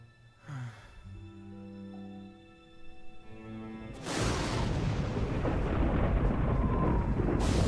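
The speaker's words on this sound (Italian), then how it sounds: "Va a cacciare Esau prima che questa tempesta ci raggiunga." Approaching thunderstorm with rumbling thunder building into a loud, sustained roar, preceded by a quieter stretch of sustained musical tones; no speech.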